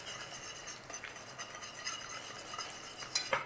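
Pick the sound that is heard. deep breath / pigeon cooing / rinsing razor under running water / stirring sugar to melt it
stirring sugar to melt it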